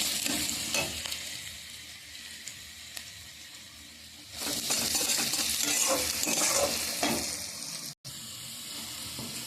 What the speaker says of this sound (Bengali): পেঁয়াজগুলো ভালো করে ভেজে নেব একটু হালকা লাল লাল হয়েছে